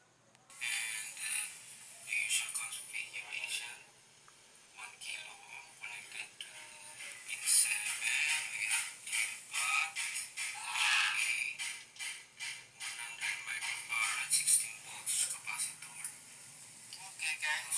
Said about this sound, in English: That is the sound of the transistor amplifier using